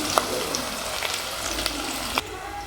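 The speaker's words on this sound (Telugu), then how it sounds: "ఉల్లిగడ్డలు అయితే వేసానండి చూడండి ఫ్రెండ్స్ ఉల్లిగడ్డలు అయితే ఉడుకుతున్నాయి" Onions fry in a pan for egg curry, a continuous close sizzle broken by a few spatula clicks and stirring scrapes.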